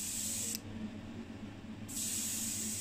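A paint spray gun hisses candy paint over yellow on a 1982 Mazda RX7, two close bursts of bright spray with a brief quieter pause between them.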